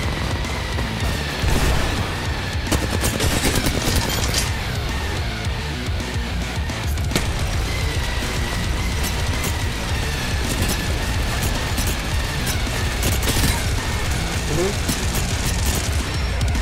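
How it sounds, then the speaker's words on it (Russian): Gunfire from Apex Legends play, with repeated bursts and sharp shots layered over constant game noise, while players talk over the action. "По мне уже шмаляют"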